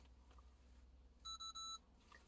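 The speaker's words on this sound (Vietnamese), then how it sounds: "Nó kêu 2 cái bíp á, nó báo nè." A glucose meter sounds two short electronic beeps in a quiet room, each a clean high-pitched tone, with no one talking.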